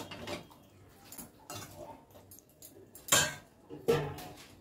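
Kasuri methi being stirred into curry in a pan, with a few sharp metallic clinks of a utensil against the pan over quieter scraping, two knocks standing out near the end.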